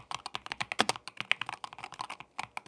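Keys typed in quick, uneven bursts on a SteelSeries Apex Pro 3 Gen gaming keyboard, each press a crisp close-up clack, heard alone at moderate volume.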